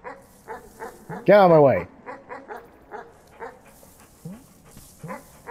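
A dog from the Animal Well game gives a loud, yelping bark among short repeated chirpy game noises, while someone talks over it.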